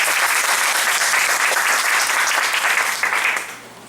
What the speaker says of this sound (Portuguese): nossas palmas, professora Marisa.